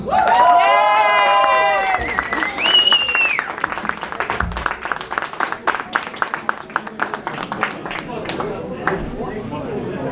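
Audience applause at a live stage performance, starting after a sung note and building into steady, dense clapping that carries on for several seconds, with a few shouts over it.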